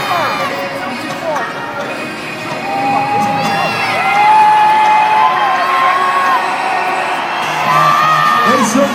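A large Monster Jam arena crowd cheers, whoops and shouts during a 2010 Spiderman truck crash, a loud sustained roar with children's high yells and whistles rising and falling throughout.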